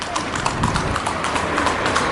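At the Carthageland theme park in Hammamet, Tunisia, horses walk along with a steady, fairly close clip-clop of hooves. A voice talks over the hoofbeats.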